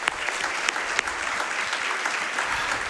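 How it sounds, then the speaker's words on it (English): Steady, dense applause from an audience, continuous clapping at even loudness throughout. "Please, round of applause."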